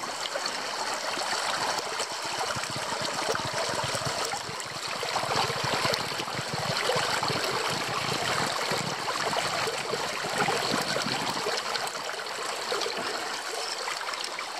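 Running stream water collected by a hiker on a trek, a steady close trickle and babble throughout, fairly quiet and alone with no voices.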